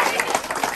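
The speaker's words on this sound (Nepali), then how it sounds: "ताली चाहिँ बजाऊ नि त ताली बजाऊ" A small group claps at a donation event held for a newly founded mother's foundation, with short irregular bursts of hand claps filling the brief moment.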